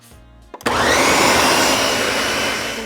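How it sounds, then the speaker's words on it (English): A blender starts up with a short stutter, then roars steadily and loudly as it purées Thai peanut sauce with onion, running alone without talk. "just blend it together until it's nice and smooth"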